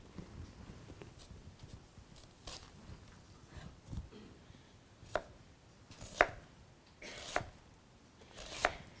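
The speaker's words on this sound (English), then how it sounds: "Now we're going to thinly slice the red onion." A knife thinly slices a red onion on a cutting board, a series of crisp, close chops that grow sharper and louder toward the end, spaced about a second apart, with no speech.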